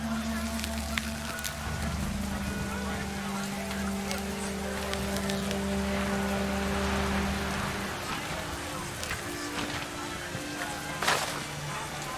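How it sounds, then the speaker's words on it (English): Heavy rain patters steadily on surfaces in the video game What Remains of Edith Finch, a dense hiss of drops with low tonal hums beneath and a few sharper splashes, with a faint voice in the background. "Rain came down in buckets then"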